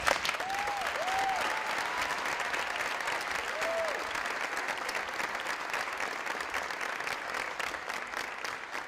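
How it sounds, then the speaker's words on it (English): Steady, dense applause from an event audience thanking the evening's MCs at a charity fashion walk, loud and continuous for the full stretch with a few faint whistles rising above it early on. "Give them one more round of applause."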